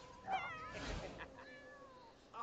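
A cat meowing in The Sims 4 Cats and Dogs game, several drawn-out, wavering meows and a brief caterwaul, close and fairly quiet, with faint talking underneath.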